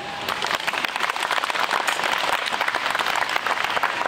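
Steady applause from an audience at a storytelling event, a dense, even patter of many clapping hands sustained throughout without a break.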